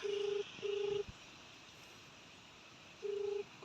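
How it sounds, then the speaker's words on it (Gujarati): Three steady electronic phone keypad tones, each held briefly with gaps between them, over a faint hiss; no voices. "અત્યારે ઘરે ફોન કરીએ છે"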